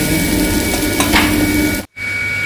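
Food lightly frying in a pan, a steady, close, loud crackling sizzle that cuts out for an instant near the end before carrying on.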